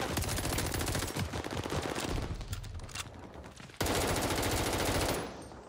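Rapid automatic fire from an AS-44 rifle in Call of Duty Vanguard, a loud, steady stream of close shots that eases briefly, then resumes in a strong burst before trailing off.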